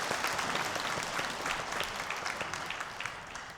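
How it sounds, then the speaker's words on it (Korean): A church congregation claps during a Sunday worship service after a choir's hymn, a dense, sustained round of applause with sharp individual claps that fades slightly toward the end. "하나님께 영광의 박수 올려드리겠습니다"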